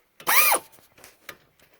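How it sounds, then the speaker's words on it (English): A power tool on a brake caliper bolt during a brake change gives one loud, close, half-second whirring burst that rises and falls in pitch, followed by faint clicks and handling sounds. "The wrench is a bit tight in here, but we'll make it work."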